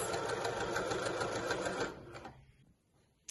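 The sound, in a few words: sewing machine stitching fabric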